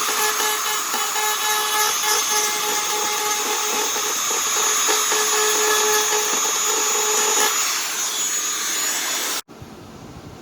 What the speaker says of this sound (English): I took the Dremel around the detail areas to reestablish the shapes and details of some places